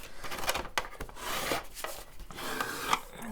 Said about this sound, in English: and I'm going to bone fold it